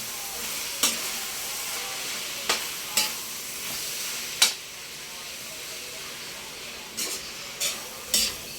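Laing, taro leaves frying in a pan, gives a steady hiss and sizzle while a spoon gently stirs, with occasional sharp scrapes and clinks against the pan.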